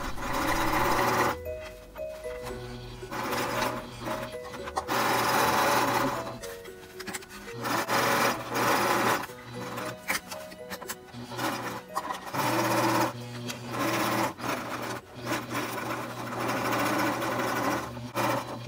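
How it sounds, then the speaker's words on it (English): A sewing machine stitches a pillowcase face mask with a filter pocket, running in steady bursts with brief pauses for reversing, close and fairly loud with no talking over it. "So I'm gonna start from right here, reverse the stitches there, and then go all the way around."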